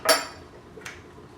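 A spoon clinks against a bowl while mixing salad vegetables and tomatoes, one sharp clatter followed by a softer knock, close and brief with no talk.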